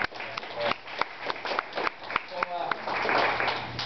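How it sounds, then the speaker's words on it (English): Audience applause at a vegan festival talk for a volunteer stepping down from a demonstration, a scattered round of clapping with crowd murmur and voices underneath, swelling into denser clapping toward the end. "we'll give you a round of applause"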